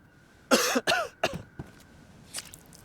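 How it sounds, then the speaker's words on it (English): A character in the DayZ survival game coughs while ill and bleeding from a cut: a few sharp, close coughs in quick succession, then fainter hacking, with no talk. "I've got a cut and I'm coughing."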